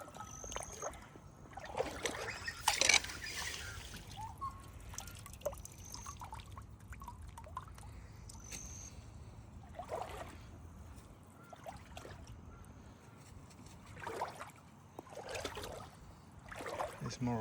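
A small, crystal-clear creek trickles steadily in the background, a faint continuous flow with a few brighter splashy bursts, heard alone without voices.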